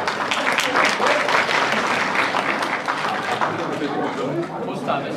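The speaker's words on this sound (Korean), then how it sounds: "박수 한번 부탁드리겠습니다" Applause from wedding guests at a cake cutting, a steady, full round of clapping mixed with crowd chatter and voices throughout.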